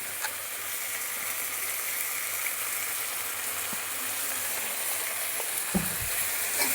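Green chili paste and tomato sauce sautéing in a pan, a steady close hiss and sizzle with a few light scrapes and one louder clatter near the end, no voices.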